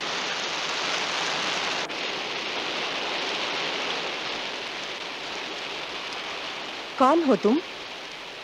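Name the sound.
rain falling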